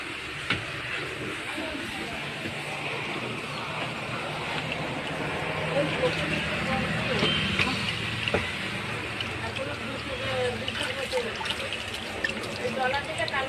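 Water splashes and swishes steadily as mangoes are washed, close and continuous, with people talking over it.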